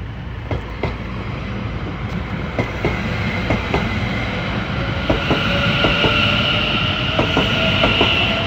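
Greater Anglia train 720527 pulling out of Cheshunt station toward Bishops Stortford, with a rhythmic clickety-clack of wheels over rail joints and a rising electric whine as it gathers speed nearby.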